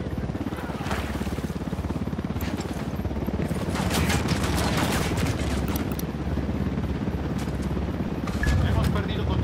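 Bursts of gunfire in Ghost Recon Wildlands rattle over a rumbling engine-like background, with voices talking through the commotion.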